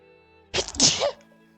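A single sudden sneeze bursts out in a quiet room, loud and close, about half a second long against faint background hum.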